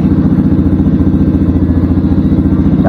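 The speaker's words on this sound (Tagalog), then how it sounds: "napandar na nga ni Makmak tong motor." A motorcycle engine runs loud and close at a steady idle, its rapid even chugging pulse unbroken throughout.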